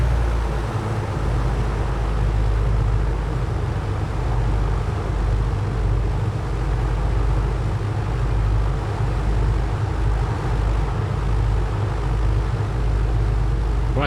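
Steady, droning hum of the twin engines of an A2A PA-60 aircraft idling during a run-up check before takeoff in MSFS 2024, loud and constant with a low throbbing pulse, a voice faintly under it.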